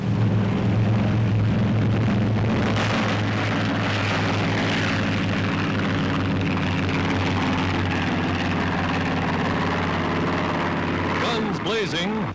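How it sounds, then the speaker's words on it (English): Dive bombers on a wartime attack run against a surfaced submarine, their engines a loud, steady roar that persists throughout, mixed with narration spoken over it. "By radio, word is flashed to an American aircraft carrier, and dive bombers are dispatched to the area."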